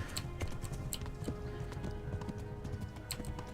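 Horse galloping in Kingdom Come: Deliverance, with quick, rhythmic hoofbeats that run steadily throughout at moderate loudness over a low background rumble.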